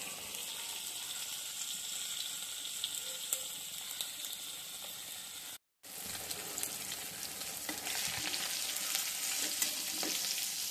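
Whole hilsa fish fry in oil with a constant moderate sizzle and fine crackling, briefly cut to silence midway, then resuming slightly louder with scattered pops.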